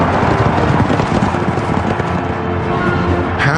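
Racehorses gallop at the Kentucky Derby in Louisville, a loud, dense drumming of hooves with a rough rumbling wash behind it that stays steady throughout.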